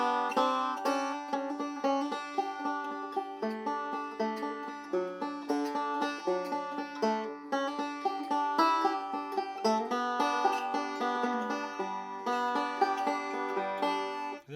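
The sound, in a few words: banjo playing with forward rolls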